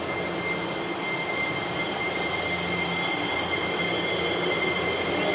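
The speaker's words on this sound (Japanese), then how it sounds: "電車行くからバイバイして。出発します。" A departing electric train in Japan rolls past with a steady, loud rushing roar and high metallic wheel squeal, constant throughout with no voices.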